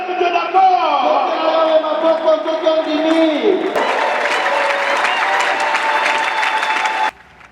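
A church congregation in Goma applauds and cheers loudly and steadily for about seven seconds, with crowd voices mixed in, after a voice rising in pitch and shouting over the start.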